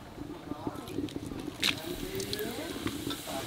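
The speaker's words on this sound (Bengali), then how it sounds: "তেলের উপর কড়া গোটা মশলা দিয়ে দেবো," Whole spices sizzle and crackle in hot oil in a Bengali kitchen, the start of a prawn curry with young jackfruit; a soft, steady frying hiss runs for a few seconds with faint sounds in the background.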